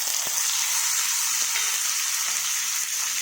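Curry leaves, chopped onion and tomato hit hot oil with spluttered mustard seeds and cumin for kanda poha, giving a loud, steady sizzle with faint stirring clicks and no talk.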